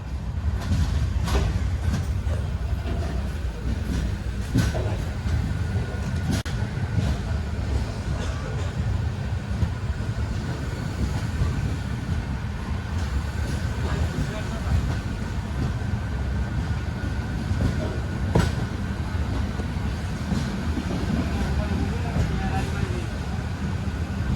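Train at the Thiruvananthapuram North to Kanyakumari service stop, the last stop, with a steady low rumble of rail cars and station noise running throughout, close and continuous, with faint voices in the background.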